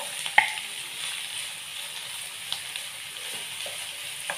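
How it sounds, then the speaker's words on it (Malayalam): Quiet, steady sizzle of green beans and green chillies sautéing in a pan with a pinch of salt, with a faint clink of a stirring utensil near the start and small scrapes. "ഞാൻ വഴറ്റുവാണ്."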